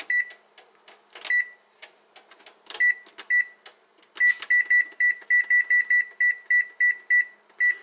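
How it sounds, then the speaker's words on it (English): A kitchen timer beeps while chicken soup cooks, with short bright electronic tones, at first scattered among clicks and taps, then a quick regular run of repeated beeps, close and clear with no talk. "Now that the timer is done"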